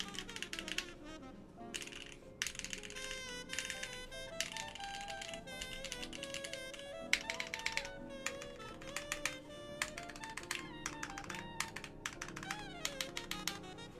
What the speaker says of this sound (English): let's do a little typing test, folks.